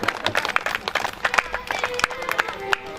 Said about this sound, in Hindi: उनको तालियों से स्वागत है उनके नाम का।